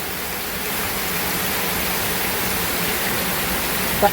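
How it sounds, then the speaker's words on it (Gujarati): Steady, dense downpour of heavy monsoon rain in Banaskantha, Gujarat, a constant broadband hiss with no pauses, with one faint brief tick near the end. "30 મિનિટથી વરસાદ હજુ પણ ચાલુ જ છે"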